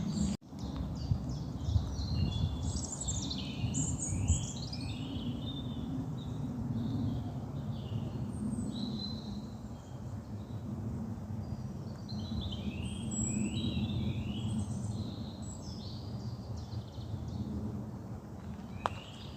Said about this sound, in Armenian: թռչունների ծլվլոցը